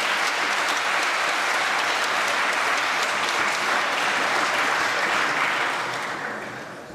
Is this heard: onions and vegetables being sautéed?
no